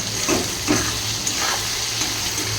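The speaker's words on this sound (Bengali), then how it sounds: "আলুটা ভাজা ভাজা হোক" Potatoes added to fried onions sizzle in a pan, with a steady hiss and a few stirring scrapes, heard close and without talking.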